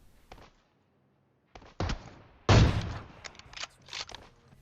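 Sniper rifle fire in the battle royale game PUBG, AWM against Kar98 in a sniper duel: a faint early shot, then several sharp loud reports, the strongest in the middle, with smaller bursts after and brief gaps of near silence between.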